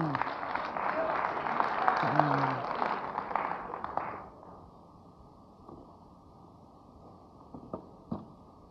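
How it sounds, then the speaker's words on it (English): Audience at a TEDx talk applauds for about four seconds with a voice over it, then the clapping fades to a quiet room with a couple of faint isolated claps. "give them a nice round of applause."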